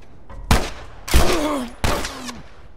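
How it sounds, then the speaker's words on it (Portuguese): Three sharp gunshots in The Last of Us Remastered on PS4, each a loud, close crack with a ringing tail, spaced roughly half a second to a second apart over low background ambience. "eu tô atirando no seu amigo"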